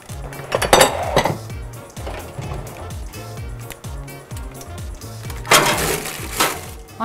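A cheesecake pan goes into a home oven with several sharp metallic clinks and rattles, loud and close, over a steady rhythmic background beat.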